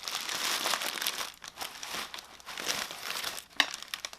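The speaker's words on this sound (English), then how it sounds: "it comes wrapped in paper." Paper crinkling and rustling as an Air Jordan 1 OG '85 High Reverse Bred sneaker is unwrapped from its packaging, continuous close crackle with brief pauses and one sharper crunch near the end.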